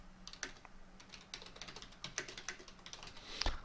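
Light tapping on a computer keyboard while editing text in Moodle, irregular quiet keystrokes in short clusters, fairly close with no speech.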